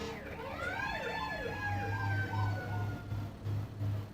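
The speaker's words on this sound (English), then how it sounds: "That's the ambulance coming back." Emergency vehicle sirens wail loudly with a rising and falling tone that shifts in pitch as they pass. A low engine drone runs beneath them, and no one talks.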